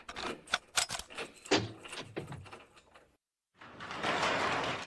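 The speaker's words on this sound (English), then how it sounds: "Now lock all our city black person locks." A rapid series of mechanical clacks and clicks from several door locks being fastened in a Family Guy cartoon scene, loud and close, then a short silence followed by a steady noisy rush.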